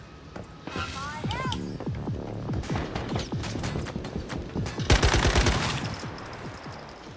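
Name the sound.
gunfire in the video game Once Human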